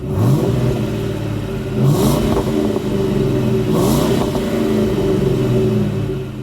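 A Ford Mustang engine idles with a loud, close, throaty rumble and is blipped twice. Each rev swells sharply and then drops back to the lumpy idle.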